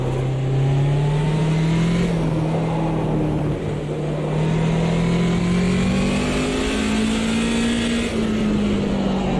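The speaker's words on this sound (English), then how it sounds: "This thing likes to rev." A BMW 2002 Turbo engine revs in the Automobilista 2 racing game, a loud, steady droning note that climbs and holds at high revs with slight pitch swells, heard alone without talk.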